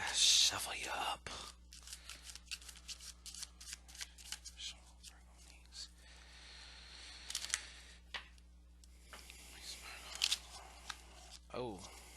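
Tarot cards shuffled during a psychic card reading, soft repeated riffling and flicking bursts with quiet pauses, while a person speaks softly between the shuffles.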